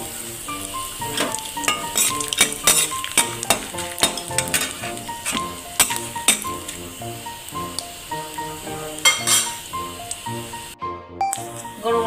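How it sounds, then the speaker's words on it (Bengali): Garam masala spices sizzling in white oil and ghee in a kadai, a steady bright crackle with scattered pops and occasional clinks of a utensil against the pan, close and continuous throughout. "কড়ার মধ্যে আমি একটু সাদা তেল দিয়ে দেবো, তার সঙ্গে দেবো আমি একটু ঘি দিয়ে আমি যে গরম মশলাটা নিয়েছিলাম সেটা আমি ফোড়ন দিয়ে দেবো।"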